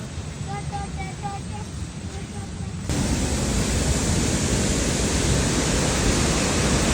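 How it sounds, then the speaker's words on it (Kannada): Kanthanpara waterfall in Wayanad: a steady, broad rushing roar of falling water that swells louder partway through and then holds constant, with birdsong faintly heard at first. "Finally we reached Kantapura waterfall."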